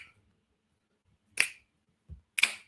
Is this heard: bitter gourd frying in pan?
no